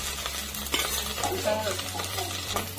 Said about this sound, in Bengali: গোটা জিরে দিয়ে দিলাম, আদা রসুন বাটা ভেজে নিব।